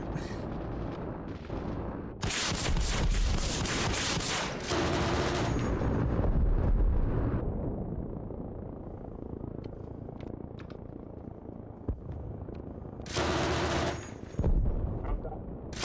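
Arma Reforger combat fire: loud bursts of rapid gunfire and heavy blasts in two long stretches separated by a quieter lull with a steady engine-like rumble underneath.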